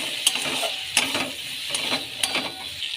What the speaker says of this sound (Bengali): ভালো করে এটাকে কষে নিচ্ছি